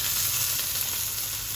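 Grilled mushrooms tossed back into a pan of sizzling caramelized onions give a dense, steady hiss, close and continuous with no talking.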